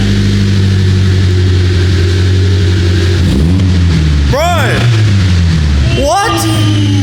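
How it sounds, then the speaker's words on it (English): A Lancer Evo with a bigger new straight-through exhaust idles with a deep, loud rumble, then revs up sharply twice, with voices calling out over the engine. "Give it a rev."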